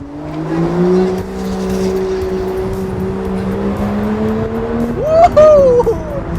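An Aston Martin V12 GT supercar drives through Shanghai streets with a steady, smooth low engine drone heard from inside the cabin, rising briefly near the end as a voice speaks over it.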